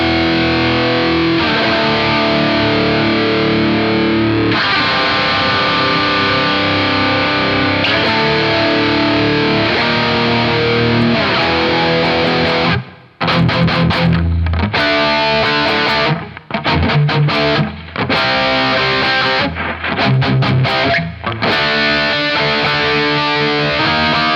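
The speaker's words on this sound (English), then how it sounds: "check out some even harder, heavier push sounds here. Here's a rectifier copy." Heavy, saturated electric guitar tone from a rectifier amp model on a Headrush Flex Prime, loud sustained distorted chords giving way to tight chugging palm-muted stabs with short gaps, no talking.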